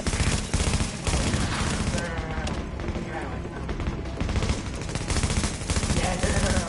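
Heavy video game gunfire, overlapping rapid automatic bursts and shots blasting loudly and close, nearly continuous, with a voice talking over the shooting.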